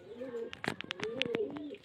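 A male and female pair of Kalsera pigeons coo in low, rolling phrases close by, with sharp clicks and flutters breaking in between the calls.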